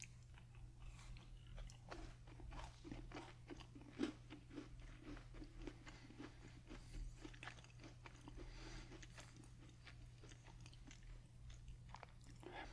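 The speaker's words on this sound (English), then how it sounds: "you're pretty much immediately chewing on the cookie texture." A honey vanilla cookie from a snack box crunches and gets chewed close to the mic in a quiet room, with steady soft bites and mastication and one sharper crunch.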